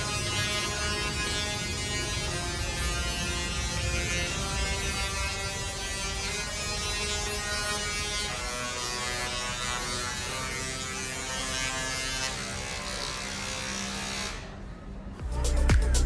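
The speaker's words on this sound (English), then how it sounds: "when the 5 Tesla coils on the roof of the hall play a melody" Five Tesla coils on the roof of a theme park hall at Europa-Park play a melody as a loud, buzzing electric tone with steady harmonic pitches, sustained for about fourteen seconds before cutting off abruptly.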